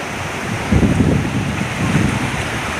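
Ocean waves rolling in at Suryalanka beach with wind buffeting the microphone, a loud, close wash of surf that swells twice in soft surges over a constant windy rumble.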